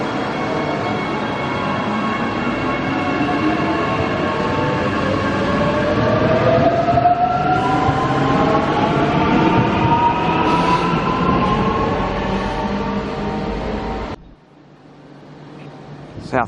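A train runs through South Brisbane Station, wheels and motors whining with rising and falling tones and a clattering rumble up close, then cutting off abruptly into near quiet; a voice speaks briefly.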